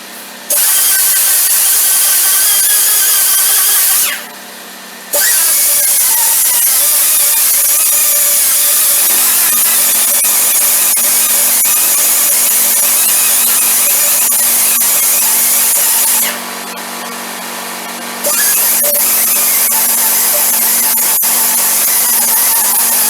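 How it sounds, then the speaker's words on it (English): An air-powered buffer runs loud and steady against a work truck tire being buffed for repair, with two brief pauses where the tool lets off before spinning back up, close by with no talk. "I'm going to go ahead and turn on my compressor and I'm going to buff the area"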